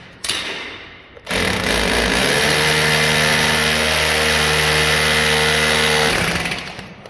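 A loud, steady motorized drilling whine from a power drill boring into track runs for several seconds after a brief scrape, then winds down near the end.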